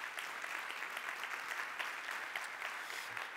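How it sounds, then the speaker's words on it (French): Steady applause from a conference audience after a plenary session, fairly faint and even throughout, with no voices standing out. "Je vous demande à nouveau d'applaudir nos intervenants."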